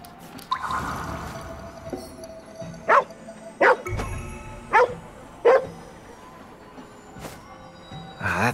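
Dog barking in the video game Ghostwire: Tokyo, four sharp barks in an uneven sequence over a low ambient game background.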